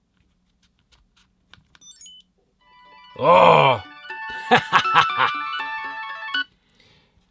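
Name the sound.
phone ringing, triggered by double press on Chipolo in Ekster wallet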